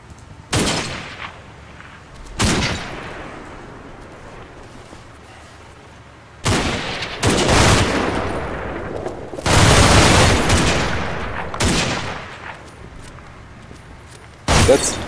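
Video game gunfire while pre-firing into a building, several loud bursts of automatic shots with long sustained volleys between sharp single cracks, close and alone.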